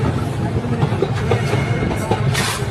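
Steady rumble of a moving train in Sri Lanka with rattling wheels and wind noise, close and fairly loud, with faint voices underneath.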